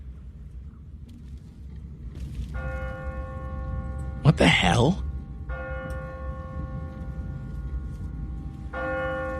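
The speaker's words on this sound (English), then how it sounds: "What kind of church bell goes off at 20 past the hour?" An automatic church bell rings in a deserted city in The Walking Dead game, sounding in steady tolling bursts over a low ambient rumble, with a startled voice exclaiming once midway.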